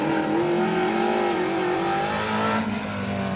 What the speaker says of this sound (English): Conrad Law and Charlie Law in their Mark 1 Escort